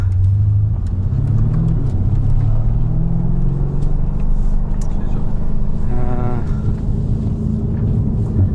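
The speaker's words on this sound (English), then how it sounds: "warming up the tires before a launch" A BMW M5 Competition F90 rated at 625 hp warming its tires before a launch, a loud steady engine drone held close throughout, rising in pitch as it revs, with no talking.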